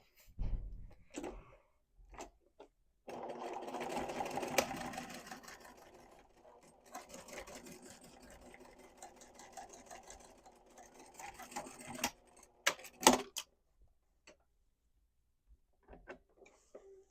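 A sewing machine stitches binding onto a quilted cube bag in a few separate bursts, faint and close, with clicks and handling noises between the runs.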